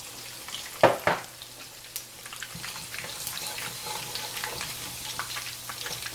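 Cumin seeds hit hot oil left in a rice pot, giving a couple of sharp crackling bursts followed by a steady, close, frying sizzle that continues to the end with no talking.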